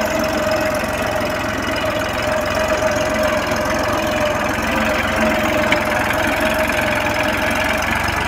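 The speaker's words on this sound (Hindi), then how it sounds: "ट्रैक्टर कोई भी RPM नहीं ड्रॉप कर रहा है।" A Massey Ferguson 7235 35 HP tractor pulls an 11-tine cultivator through hard soil, its diesel engine chugging steadily at constant revs, loud and close, with a continuous knocking rhythm and no talk.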